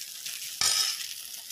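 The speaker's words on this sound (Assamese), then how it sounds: "তেজপাত দি পেলাই ভালদৰে মছলাকণ ভাজি ল'লোঁ" Whole spices and a bay leaf dropped into hot oil: a low hiss, then a sudden, sharp sizzle flares up and settles into steady frying, close and brief, with no voices.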